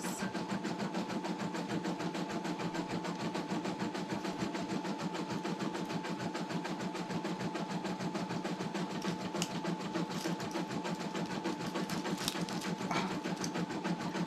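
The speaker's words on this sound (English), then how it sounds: "That's my embroidery machine going in the back" An embroidery machine runs steadily in the background, giving a faint, even mechanical hum and rapid stitching chatter that continues unbroken throughout.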